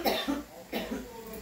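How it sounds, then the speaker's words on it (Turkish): A single person coughs twice in quick succession, close and fairly loud, with a brief pause between the two bursts. "Ay öksürttü kızlar."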